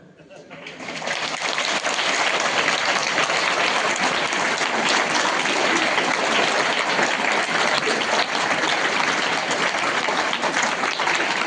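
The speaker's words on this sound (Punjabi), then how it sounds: "30 ਸੈਕਿੰਡ ਤੇ ਤੁਸੀਂ ਤਾੜੀਆਂ ਤੁੜੀਆਂ ਮਾਰ ਦਿਓ" Audience applause at a college poetry recitation, a dense, steady wash of many hands clapping that swells in within the first second and holds loud and even to the end, with no clear talk on top.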